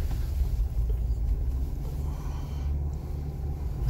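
A rented Jeep Wrangler in four-wheel drive rolls over rough off-road ground with a steady low engine and drivetrain rumble heard from inside the cabin, and no talk.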